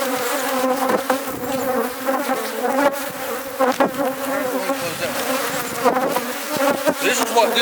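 Honeybees swarm around an open hive colony during supering, a dense continuous buzz with individual bees zipping past the microphone up close, loud and steady throughout.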